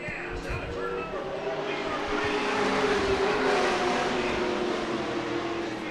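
SPEARS modified race cars roaring off the start at Kern County Raceway, a field of engines swelling into a loud sustained roar heard at a distance, with a commentator talking over it.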